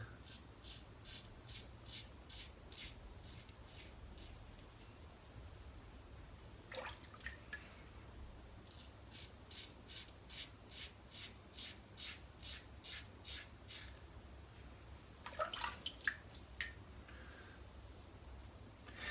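A PAA Bakelite slant safety razor scrapes across a shaved head in a steady series of short rasping strokes, faint and close, with a couple of louder rinsing splashes in between.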